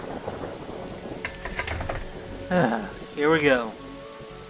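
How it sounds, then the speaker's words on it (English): Steady rain with distant thunder in the video game The Darkside Detective, a constant hiss beneath a brief spoken voice and a couple of louder voiced bursts. "But it's raining outside."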